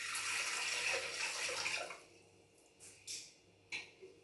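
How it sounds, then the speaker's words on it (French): Lukewarm water for bread dough poured into a Thermomix, a steady splashing stream for about two seconds, then a few separate drips and small splashes as the pour stops. "Pour ma part, j'ai choisi de mettre de l'eau tiède pour gagner en temps sur la poussée."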